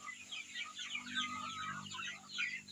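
Young chickens hatched in an incubator on a free-range farm make a steady chorus of close cheeps and clucks, a dense overlapping chatter with no voices.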